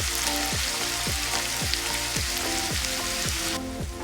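Onions fry in a pan for a spicy beef curry, producing a continuous, even crackling sizzle close up with no voices over it.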